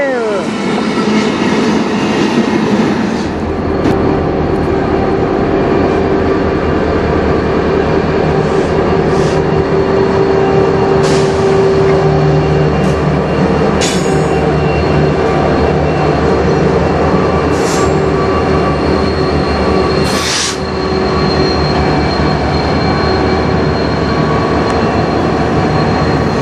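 A CN freight train rolls past close by on the Strathroy Subdivision on a snowy day. Its wheels make a loud, continuous rumble and clatter, with occasional sharp squeals and clanks.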